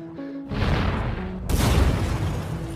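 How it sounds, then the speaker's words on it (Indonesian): A film explosion caused by a leaking LPG gas supply erupts as a door opens, a loud broadband boom that swells and then surges again into a sustained roar over a low rumble, with a faint musical tone underneath. "Lalu mereka membuka pintu dan ledakan pun terjadi."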